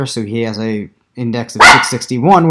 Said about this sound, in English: I'm really sorry about the dog barking.